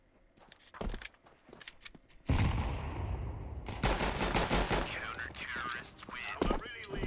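Bursts of video game gunfire in a first-person shooter, a few sharp shots early followed by a loud sustained burst of rapid automatic fire, then more rapid shots close up.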